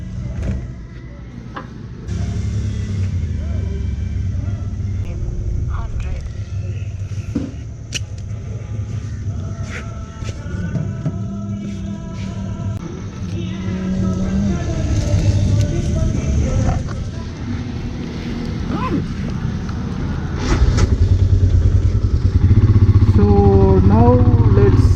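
Royal Enfield Himalayan motorcycle riding along a road, a steady loud engine and road rumble running throughout with a rising surge near the end, speech heard over it.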